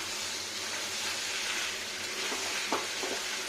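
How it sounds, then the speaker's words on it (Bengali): Chicken and onions fry in a pan with a soft, steady sizzle, and a few light scrapes and clinks from stirring come near the end; no one speaks. "পেঁয়াজগুলো তো পুরো ভাজা দিয়ে একদম জড়ো হয়ে যাবে"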